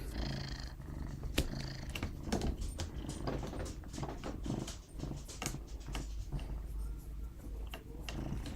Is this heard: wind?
no